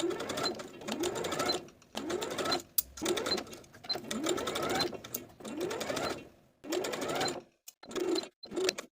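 A sewing machine bastes a ruffle to the armhole of a top, running in close bursts of steady rapid stitching, broken by short pauses and a few clicks between runs.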